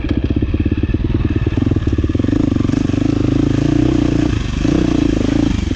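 A 2023 KTM 350XCF dirt bike engine runs loud and close throughout, a steady buzzing drone that pulses and surges as the rider works the throttle, with faint clattering underneath.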